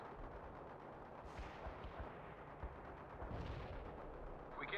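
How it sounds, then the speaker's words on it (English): Medium artillery firing in the World in Conflict video game, a continuous roar of distant blasts and rumbling explosions with a couple of louder swells, dense and steady throughout. "Medium artillery firing at coordinates."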